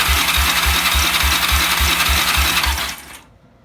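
A Kawasaki ATV engine cranks over with the choke off, a steady rhythmic chug of about ten even pulses from a starter, loud and close, ending abruptly after three seconds without catching.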